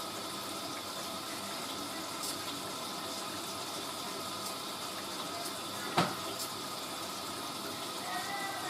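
A Hoover A3060 Electronic 1100 washing machine draws water in a steady hiss during its bio prewash, with a blanket inside the drum, and a single brief knock partway through.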